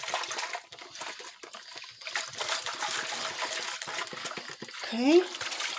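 Water poured into a pan of seasonings for vegan pasteles, an uneven trickling and splashing pour lasting several seconds with a brief louder slosh near the end; background sounds come and go around it.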